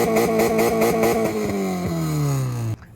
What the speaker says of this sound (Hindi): इसको आफ्टर मार्केट एग्जॉस्ट लगा हुआ है और ये वादू है किस्म का शोर मचाता है।